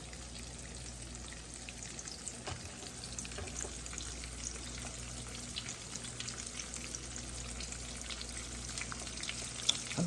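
Veal cutlets fry in a pan, giving a steady, dense sizzle and crackle that runs unbroken for ten seconds with faint pops, close and moderately quiet, with no talking.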